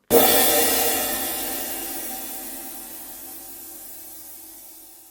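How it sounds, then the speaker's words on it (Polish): A cymbal struck once, bursting into a bright, hissing wash that slowly fades over several seconds, alone and close. "Podobnie jest z uderzonym talerzem."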